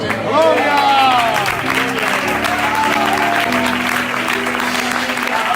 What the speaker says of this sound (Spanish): fuerte aplauso a la palabra de esta tarde.